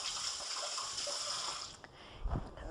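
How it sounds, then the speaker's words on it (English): An apple dropped on the floor rinsed under a running kitchen tap, a steady hiss of flowing water that breaks into a few brief splashes near the end. "I'm going to rinse off the one I dropped on the floor"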